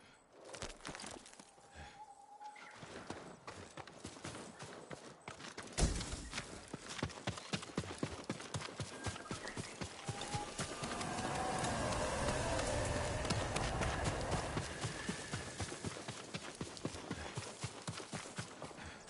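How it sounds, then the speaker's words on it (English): A farm horse's hooves clip-clop in a steady walking rhythm in Ghost of Tsushima, close by at the stables, swelling a little louder toward the middle of the stretch. "A farm horse."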